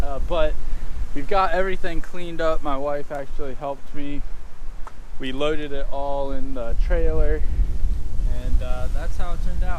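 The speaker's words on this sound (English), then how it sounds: "Excuse the wind again, still pretty windy out here." Gusty outdoor wind rumbles across the microphone as someone talks, with the low buffeting growing stronger toward the end.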